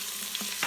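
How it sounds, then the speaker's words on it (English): Garlic sizzles in hot oil inside an Instant Pot, giving a steady hiss, with a couple of brief stirring scrapes and no voices. "I'm gonna put in the garlic to caramelize everything. As you can hear it sizzling."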